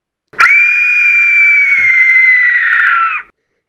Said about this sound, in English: This is the Aztec death whistle.